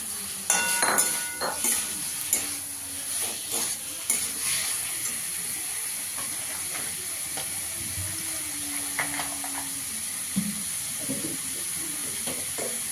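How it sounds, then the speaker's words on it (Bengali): Fried pointed gourd pieces go into a pan of sautéed spices, bringing a soft steady sizzle and hiss with a few scraping stirs and clinks of a spatula against the pan. "এবার ভেজে রাখা পটলটা দিয়ে দেবো"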